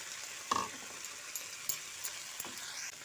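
Ground spice paste with Kashmiri chilli powder frying in a pan for a small-potato aloo dum, a constant bright sizzle with occasional stirring knocks, close and without talk.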